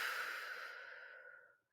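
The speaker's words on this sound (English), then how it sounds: "deep breath out." One long, soft exhale of deep breathing: a breathy, airy sigh that slowly fades away, heard alone and close with no talk.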